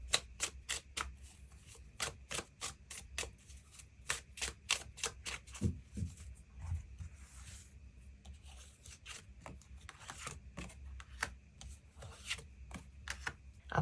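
Tarot cards being shuffled and drawn, a fast run of crisp riffling snaps followed by softer sliding and tapping of cards, close and fairly quiet with no talk.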